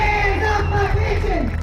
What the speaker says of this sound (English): A passionate crowd of state workers, educators, and retirees took to the steps of the state capitol